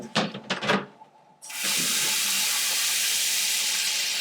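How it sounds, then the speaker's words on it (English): A tray filling with warm tap water for soaking printmaking paper: a few faint knocks and clatters, then a strong, steady rush of running water that continues to the end. "fill this tray up with really nice warm water"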